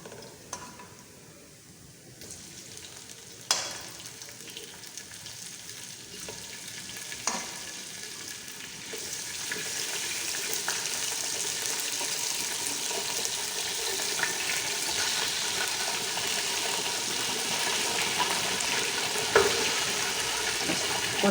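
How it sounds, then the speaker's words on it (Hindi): Chicken stirred and fried with spices in a pot for a one-pot chicken pulao, a broad steady sizzle that swells after a few sharp clanks of a spoon and holds evenly to the end without talk. "थोड़ा सा चला के इसमें साथ ही"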